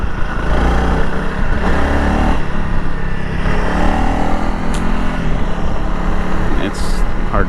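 A Honda CRF300L Rally motorcycle engine revs up and shifts through the gears, a loud continuous drone with rising and falling pitch and brief breaks at the shifts, with someone talking over it.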